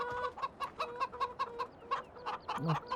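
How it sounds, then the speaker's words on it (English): Chickens in the video game Farming Simulator 17 cluck in a rapid, repeated series of short bursts, fairly close and busy, with one lower squawk near the end. "You can hear the daggone chickens."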